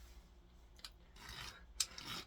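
A coarse double-sided Millbaster file rasps against a bullet casing in short, uneven strokes, faint and close, with no talking.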